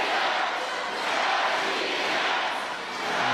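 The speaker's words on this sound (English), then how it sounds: "the partisan crowd here find their voices as they try to get behind their team" A partisan home crowd roars at a Russia versus USA basketball game, a steady wash of cheering voices that swells and dips slightly without letting up.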